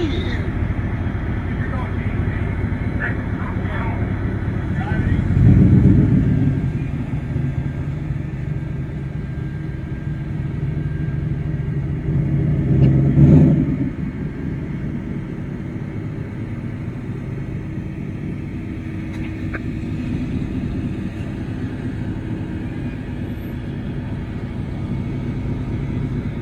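A rough-running truck with a rattle idles with a steady low rumble, swelling in two distinct revs, while people talk over the engine.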